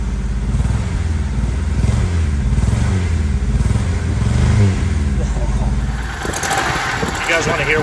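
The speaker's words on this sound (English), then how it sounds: "You guys want to hear what a misfire sounds like? It's that." A Honda CRX HF engine revs with an uneven, sputtering misfire, a loud and close rough chugging that holds steady throughout, with someone talking over the last second or two.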